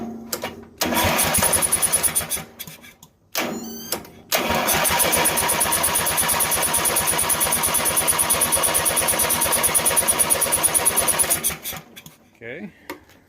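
A Lawn Boy lawn mower engine is pulled over and catches, sputtering briefly before roaring into a steady, loud, close running drone for several seconds, then dying off; a voice speaks in between.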